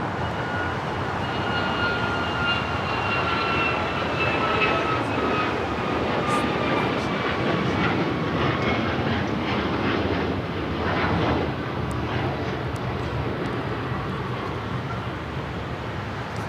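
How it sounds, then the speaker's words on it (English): A Turkish Airlines airliner taxis and makes a U-turn at LAX, giving off a loud, continuous jet engine rumble with a rising whine that holds steady for the whole stretch. "Turkish making a U-turn from Charlie over to Bravo,"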